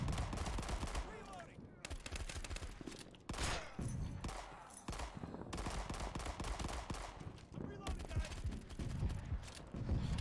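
Gunfire in World War 2: Battle Combat, dense bursts of rifle and machine-gun shots firing almost continuously at close range, with brief pauses, mixed with game sound and a voice talking over the fighting.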